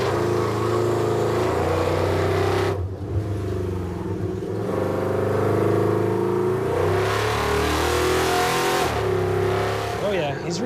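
A Chevy muscle truck fitted with a new four-link suspension accelerating hard on a test run at dusk, a loud sustained engine roar rising and shifting pitch over about ten seconds, heard close with a few voices talking over it.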